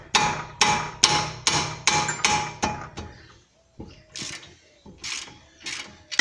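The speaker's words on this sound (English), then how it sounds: "14mm socket and a ratchet." A 14mm socket on a ratchet works a bracket loose on a Mercury Montego/Ford 500 front end, clicking in a steady run of sharp, close pawl strokes, then a slower, irregular series.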